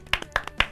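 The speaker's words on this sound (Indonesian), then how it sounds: "Wih, tepuk tangan dong." A few people clapping in a small gathering, three or four sharp separate claps spaced irregularly over less than a second, close and fairly loud, with no one speaking.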